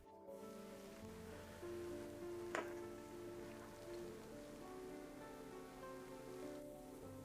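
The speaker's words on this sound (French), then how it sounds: "Aujourd'hui, il pleut en Italie, contrairement à hier." Light rain patters softly and steadily in the background outside an abandoned Italian palace, with a faint drip or tap standing out once.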